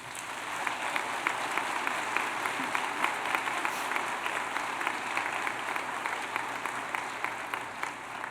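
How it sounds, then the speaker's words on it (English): A graduation audience at Edgewood High School applauds, a dense sustained wash of many hands clapping for several seconds, even and moderately loud with no voices on top. "Please give these amazing humans a well-deserved round of applause."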